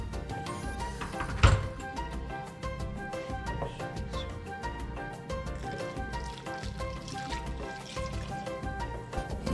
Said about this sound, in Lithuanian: Tada reikia supilti karštą vandenį.